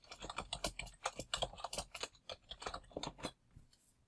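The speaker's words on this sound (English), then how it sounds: "and now I can type." Rapid typing on a computer keyboard, a dense run of close, crisp key clicks for about three seconds before trailing off, with no talking.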